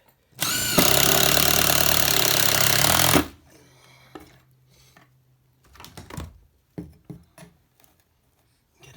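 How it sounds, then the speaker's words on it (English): A power drill whirs loudly for about three seconds, driving screws into a subfloor patch, then stops, followed by scattered clicks and light handling noises. "so I'm going to drill these in"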